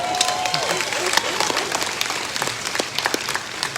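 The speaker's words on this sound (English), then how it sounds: "That's right, you can clap." A crowd at a Georgia Military College commencement breaks into sustained applause, with dense clapping and scattered sharp individual claps and faint voices mixed in.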